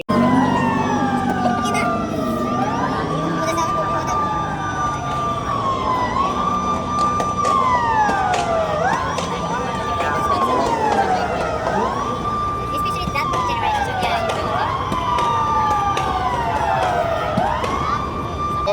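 Police car siren wailing at the Daikoku car show in Japan, a loud, steady rising-and-falling sweep repeating about every three seconds over crowd and traffic noise, with people talking in the background.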